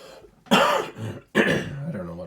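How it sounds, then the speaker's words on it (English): A person clears their throat and coughs in two loud, harsh bursts separated by a short pause, the second tailing off into a rougher, fading rasp. "maybe next time I won't be coughing so much"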